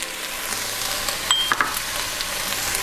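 Chili powder and cocoa powder dropped into a pot of sizzling sweet potato chili, a steady close frying hiss with a couple of light clinks partway through.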